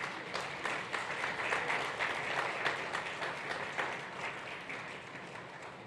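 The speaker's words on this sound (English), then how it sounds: "please welcome him with a round of applause" A conference audience gives sustained, even applause welcoming the President of Ghana at a presidential dialogue event, a dense wash of clapping that carries on steadily with no speech.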